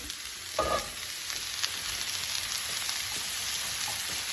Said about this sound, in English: Do you hear it sizzling?